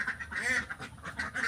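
Laying ducks on a duck farm quack repeatedly in a dense, close chorus, with overlapping calls filling the whole short stretch.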